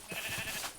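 A sheep bleats in the video game Minecraft, one short wavering baa at moderate distance, faint against a busy background of game sound.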